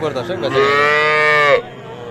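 A bull calf lows once at a cattle market, a single loud, close moo sustained for about a second amid the market's background chatter.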